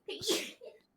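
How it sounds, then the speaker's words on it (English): One quick, close sneeze from a woman bursts out sharply and fades, with a short faint breathy sound right after. "Her sneeze is almost as cute as mine."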